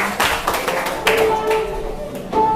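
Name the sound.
students clapping hands in class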